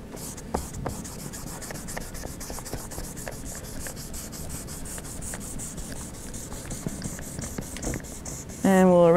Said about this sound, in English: And we'll erase a whole bunch of the table surface so that it looks brighter than the bottle.